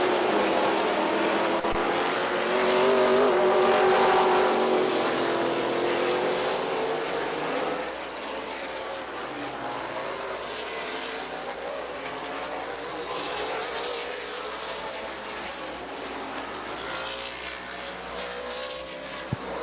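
Race cars running laps on a track during a 2022 season opener, their engines roaring in a loud sustained drone with rising and falling pitch as cars pass, heard from trackside.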